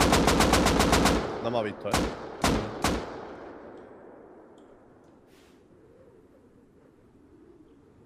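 Gunfire in the video game Rust: a rapid automatic burst followed by three loud separate shots, then fading into quiet ambience, with a voice speaking briefly.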